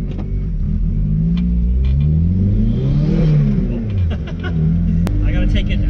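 A Mazda Miata fitted with a ZF 5-speed transmission pulls away from a stop, its engine rumbling loud and close as it revs and accelerates, pitch climbing in sweeps through the gears.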